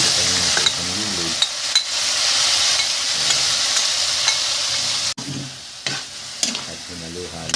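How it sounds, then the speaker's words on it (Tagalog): Garlic sizzles in hot oil in a pan for pork and chicken adobo, a continuous loud frying crackle with occasional scraping stirs and a short clunk near the end. "Pagkatapos ay naglagay ako ng mantika at bawang."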